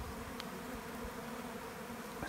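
Honey bees swarming a feeder tote, a faint steady buzzing drone of many insects filling the whole moment with no voices.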